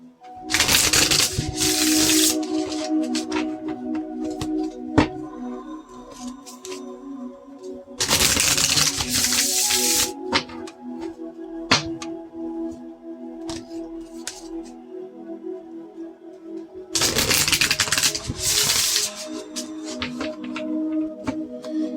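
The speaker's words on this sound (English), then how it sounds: "I'm just messing my cards up today, just cutting them all up." Oracle cards being shuffled and cut by hand, three loud riffling bursts separated by quieter handling and card taps, close and alone without talk.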